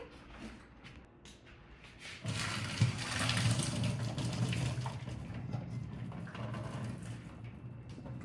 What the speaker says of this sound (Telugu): ఆఫ్ చేసుకున్న వెంటనే మనం దీన్ని స్ట్రెయిన్ చేసేసుకోవాలి